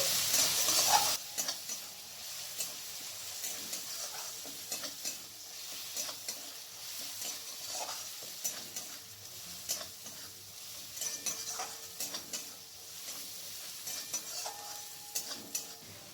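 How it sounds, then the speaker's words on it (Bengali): Ginger garlic paste fries in a hot pan for a paneer curry and is stirred continuously, with a steady close sizzle and repeated spoon scrapes and clinks, no voices. "এরপর 2 মিনিটের মতো ভেজে নেব যাতে আদা আর রসুনের কাঁচা স্মেলটা যেন না থাকে"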